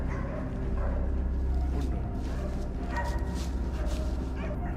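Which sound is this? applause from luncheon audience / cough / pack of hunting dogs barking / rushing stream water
pack of hunting dogs barking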